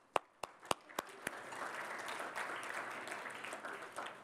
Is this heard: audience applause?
yes